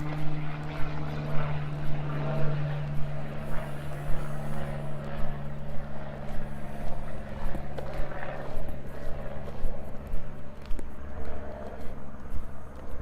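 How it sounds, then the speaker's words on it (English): A small propeller plane passes overhead on an evening neighbourhood walk in Regina, a steady droning hum that swells and lingers over the whole stretch, with low traffic rumble and faint outdoor ambience beneath it. "plane just went over."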